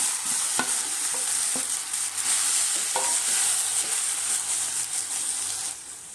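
Sautéed grated coconut and cooked moong dal being stirred in a hot pan for Tamil suzhiyam sweet: a soft continuous sizzle with scraping spoon strokes and occasional taps against the pan, close up.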